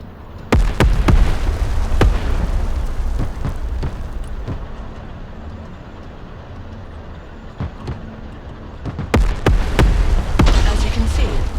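Artillery fire-mission explosions in the video game Broken Arrow: a volley of loud, sharp blasts at the start, a rumbling stretch, then another cluster of booms near the end.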